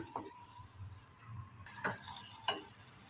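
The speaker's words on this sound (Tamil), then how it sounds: "இப்போ இதே நம்ம வதக்கி எடுத்துக்கலாம்" Ginger-garlic paste sizzles softly in a pan while a spoon scrapes and stirs in a few brief strokes; the frying hiss grows louder partway through.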